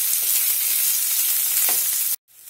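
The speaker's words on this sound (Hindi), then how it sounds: "प्याज का कलर सुनहरा होने तक इसे भून लेते हैं धीमी आंच पे।" Sliced onions fry in oil over a low flame for a suran (elephant foot yam) masala sabji, giving a steady soft sizzle and crackle that cuts off abruptly near the end.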